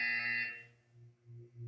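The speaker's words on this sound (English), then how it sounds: "When you hear the buzzer, look down at the floor." A bright electronic buzzer tone from the video game Portal 2 sounds for about half a second, then fades into lower pulsing electronic hums, with no talking.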